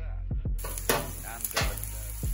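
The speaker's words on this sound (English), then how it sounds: "we're going to let our onions sit for about a few minutes as they cook underneath the flame" Onions sizzle steadily in a pan over a gas flame, a bright constant frying hiss broken by a few soft clunks and stirring knocks close by.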